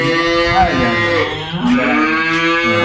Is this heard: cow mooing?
yes